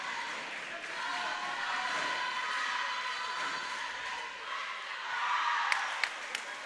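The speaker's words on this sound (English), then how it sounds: "Both crowd getting into it" Sustained roar of a high school junior varsity boys' basketball crowd cheering during an overtime period, a steady broad wash of voices with a few sharp claps near the end.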